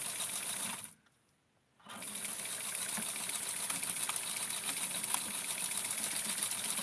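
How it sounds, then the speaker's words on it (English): A sewing machine stitches a scallop on a Barbie wedding dress, whirring steadily at close range with a brief pause near the start, then running continuously. "I sewed it quite a few times there to make sure that it doesn't undo itself."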